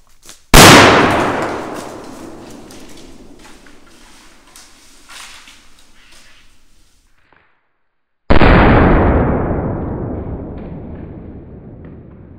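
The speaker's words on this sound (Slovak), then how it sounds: "Rana obrovská, petarda nám pekne vybuchla." Two loud firecracker blasts set off inside a dry tree outdoors, each a sharp close bang with a long ringing, crackling decay, separated by a few seconds of quiet.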